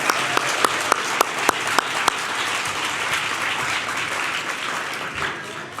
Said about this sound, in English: please join me one more time for a round of applause for our beautiful choir